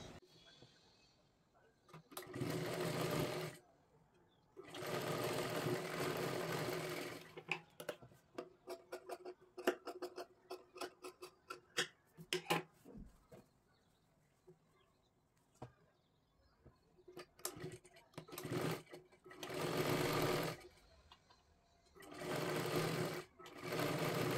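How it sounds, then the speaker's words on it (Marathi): A sewing machine runs in repeated bursts while stitching a katori blouse, fast mechanical needle clatter broken by short pauses and the quieter ticks of the fabric being turned and repositioned. "अशा पद्धतीने पकडून खालीपर्यंत व्यवस्थित शिलाई करून घ्यायची आहे"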